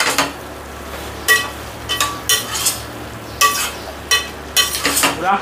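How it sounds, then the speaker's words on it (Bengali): Vegetable biryani masala with paneer being stir-fried in a pan, a soft sizzle under repeated bursts of spatula scraping and stirring, close and alone with no talk. "এবার এটাকে ভালো করে আবার কষিয়ে নেব পনিরের সঙ্গে।"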